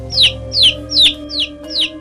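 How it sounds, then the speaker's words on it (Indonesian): Mother hen clucking with her chicks beside a jackfruit tree, five evenly spaced, sharp high calls close by over a faint low hum. "Ku dengar suara induk ayam berserta anaknya di samping pohon nangka tersebut."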